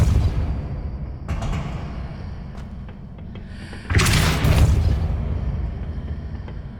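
A Depulso spell cast in the Hogwarts Legacy video game gives a sharp whoosh and heavy rumbling thud, followed by a lingering low rumble of stone shifting.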